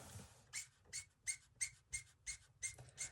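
Rhythmic squeaking of colouring tools blending shades V09 and 17, about nine short, evenly spaced squeaks over a faint low hum, close and fairly quiet.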